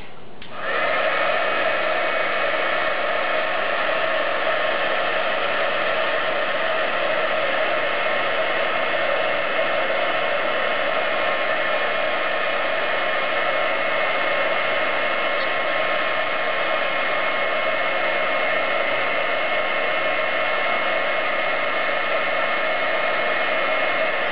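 A heat tool blasts hot air steadily over embossing powder, a close, constant blowing whoosh that runs unbroken for the whole stretch with no talk.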